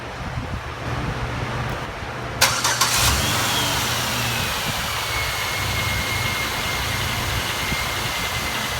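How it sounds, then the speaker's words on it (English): A 2003 Pontiac Grand Am engine cranks and catches a few seconds in, then settles into a steady idle with a broad hum that continues to the end. "Start the car up, turn it to max AC"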